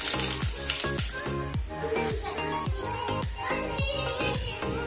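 Mustard seeds and curry leaves crackling in hot oil for a village-style shevali bhaji tempering, with loud sharp pops repeating rhythmically over a continuous close sizzle.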